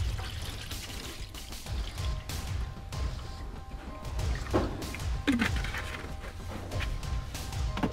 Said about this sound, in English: Thoroughly mix your 1 liter sample and decant the contents into your Imhoff cone.